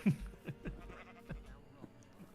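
Sheep bleating in Minecraft, several short blocky bleats in an irregular run, fairly quiet and close, with no talk.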